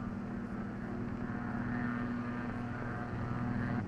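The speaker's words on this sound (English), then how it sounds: "One of the tensest moments was the takeoff" Fokker T-2 monoplane weighing 10,000 pounds taking off, a steady droning propeller engine hum with a strong low tone, continuous and even throughout with no talk.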